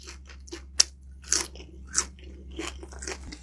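Crispy skin dipped in vinegar is bitten and chewed up close, several sharp crunches standing out over softer chewing in a quiet room.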